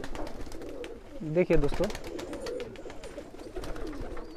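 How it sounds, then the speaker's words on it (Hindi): Many pigeons coo in a crowded pigeon sale market, their low warbling calls rising briefly in a close cluster amid a busy background while someone talks over them. "यहाँ पे भी काफ़ी ज़्यादा कबूतर।"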